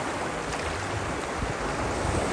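Ocean water pours over a rock beside a kayak in Trinidad Bay, California, producing a constant loud rushing wash of surf mixed with wind buffeting.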